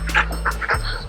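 A dog pants after a walk in quick, close breathy bursts, with a faint whimpery edge and no clear talking.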